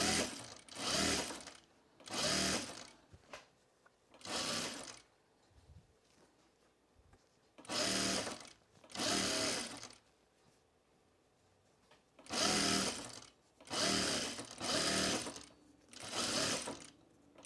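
Close by, a sewing machine stitches a collar onto a blouse in short repeated bursts of rapid mechanical whirring, about seven runs separated by quiet pauses, with no speech.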